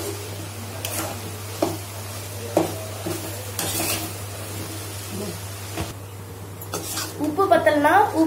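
Curry leaf rice is stirred and scraped in a pan, with a series of spaced spoon scrapes and light clinks over a steady background hum and a brief rising clatter at the end.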